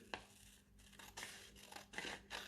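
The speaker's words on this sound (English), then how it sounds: "Cut the shape out and cut it to separate these 2" Scissors snip through paper while a rotor shape for a paper helicopter is cut out, giving several short, close rasping cuts spaced about half a second apart, with no talking.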